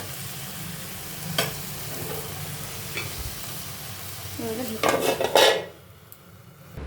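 Drumstick leaves frying in a pan make a low steady sizzle with a few utensil clinks, then a loud hissing burst as a little water goes in, after which the sound drops to a quiet simmer.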